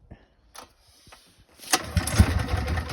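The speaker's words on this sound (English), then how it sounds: "So Second pull. Third pull. We might need choke." A small generator engine is pull-started, with a couple of short rope-pull rasps and knocks before the motor catches and sputters into a rough, loud running rumble close by.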